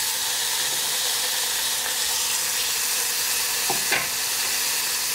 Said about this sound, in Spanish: Calentamos el aceite y vamos a poner a sellar la carne hasta que esté dorada por ambos lados.